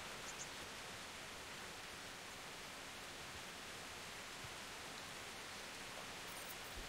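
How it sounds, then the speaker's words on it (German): Rain falls in the video game Kingdom Come Deliverance as a steady, even hiss that never changes, soft and alone with no voices. "Toll, jetzt regnet's."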